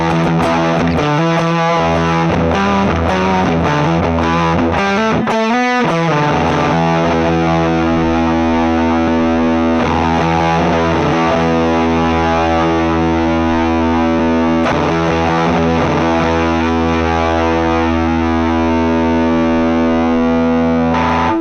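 An electric guitar played through a distortion effect in Ableton Live, giving loud, heavily saturated sustained chords that ring continuously with a few quick strummed changes and no talking.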